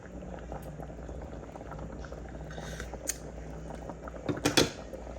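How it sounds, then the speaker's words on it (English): Puerto Rican stewed beans bubbling at a steady boil in a pot, a continuous close, soft burble with a few louder pops and clinks near the end. "Once it has come to a boil."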